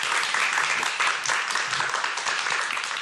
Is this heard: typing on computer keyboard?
no